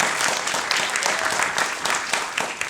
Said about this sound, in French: Donc un grand merci à tous pour vos applaudissements.